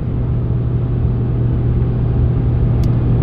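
A Dodge pickup truck with a manual transmission cruises steadily down the road on cruise control. A constant low engine and road rumble fills the cab at a loud, even level, with no speech.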